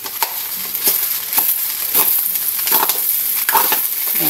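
A spatula scrapes and stirs fried rice with egg in a hot pan, giving steady rhythmic scraping strokes about every half second over a constant close sizzle.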